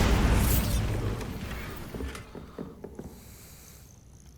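A Bombarda spell blast in Hogwarts Legacy, a loud booming burst that decays over a couple of seconds into scattered debris clatters and small pops.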